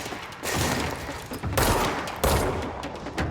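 Gunfire in the video game Control rakes over corpses as several loud, close bursts of rapid shots with short gaps between them.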